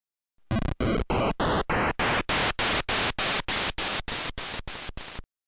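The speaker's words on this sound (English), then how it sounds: "Most often, it's used for its white noise timbre." NES noise channel from the Mega Man 2 soundtrack playing its white-noise timbre alone as a run of about fourteen short static bursts, each pitched a step apart, loud and evenly spaced.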